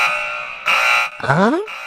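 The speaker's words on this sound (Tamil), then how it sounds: "என்ன பேங்க் அலாரம் அடிக்குது" A bank alarm rings in loud, steady electronic tones that cut out and restart, broken by a brief rising warble partway through.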